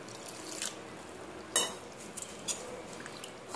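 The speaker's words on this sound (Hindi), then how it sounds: "इसमें हम पानी डाल देंगे" Water is poured into rava dosa batter of semolina, chili powder, salt and curd, a short soft splash with a few light clinks of a utensil against the bowl.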